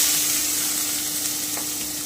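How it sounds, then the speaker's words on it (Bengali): Squash and potato pieces frying in hot oil with black cumin and dried red chili, a loud continuous close sizzle throughout with no talking. "এবারে আমি কোয়াশার আলুটা দিয়ে দিচ্ছি"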